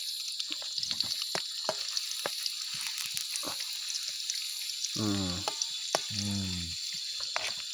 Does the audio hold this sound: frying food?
yes